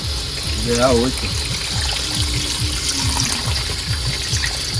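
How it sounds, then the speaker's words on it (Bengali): Water is poured into a cooking pot of fried potatoes during crab cooking on a boat in the Sundarbans, a steady close splashing pour with a short voice in the background. "এবার জল দিয়ে দেবো পুরো"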